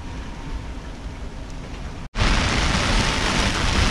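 Heavy rain and wind batter a sailboat at sea during a severe squall, a loud, steady hiss that briefly cuts out and then returns even louder and denser.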